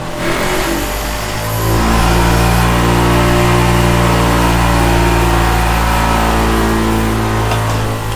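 Power grinder used while fitting cabinet and desk locks, a loud motor that spins up within a couple of seconds and then holds a steady, humming whine to the end.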